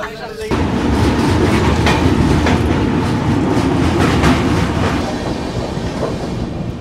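A Sealdah–Jammu Humsafar Express runs on its rails near Moradabad, giving a loud, steady rumble with rhythmic clickety-clack of wheels over joints that starts abruptly after a brief quiet moment and continues throughout.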